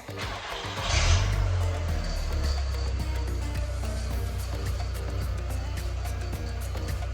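An Audi TT MK1 engine is started and then runs with a steady low rumble, a brief rising surge at startup, and faint ticking and clatter above the hum.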